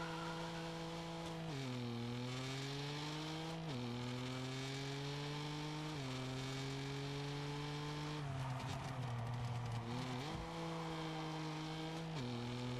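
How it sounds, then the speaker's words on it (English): A BMW M4 Competition engine in the video game Test Drive Unlimited Solar Crown revs hard and steadily, climbing in pitch then dropping at each gear change, repeated several times in a loud continuous roar. "I want to show you how this M4 competition sounds"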